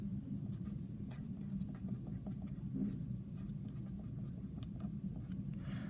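A pencil scratches steadily across a math worksheet while polynomial multiplication is worked out, with continuous close strokes and short taps over a low background hum.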